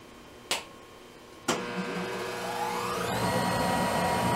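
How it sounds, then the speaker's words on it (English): A Monarch 10EE motor generator lathe switches on with two sharp clunks, then its whine rises steadily in pitch as it spins up to a loud, sustained mechanical drone close by. "this is a motor generator lathe, and it is relatively loud"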